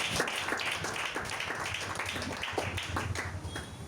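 A church congregation applauds at a worship service. Dense, steady clapping from many hands, with a faint rhythmic pulse, carries at an even level throughout, and no one speaks over it.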